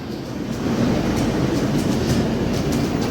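An LHB passenger train rolls along the rails with a steady, loud rumble and broadband roar, with faint rhythmic clatter from the wheels throughout.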